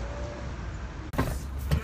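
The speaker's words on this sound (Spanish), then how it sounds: "este coche que viene en sentido contrario" A car driving the wrong way over a one-directional speed bump on a road, passing nearby with a steady engine and road rumble and then an abrupt jolt and thump as it strikes the bump.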